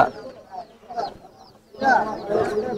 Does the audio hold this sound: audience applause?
no